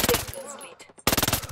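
Rapid automatic gunfire in Ghost Recon Breakpoint, a loud burst of closely spaced shots, a short pause with fading echo, then another fast burst, close up.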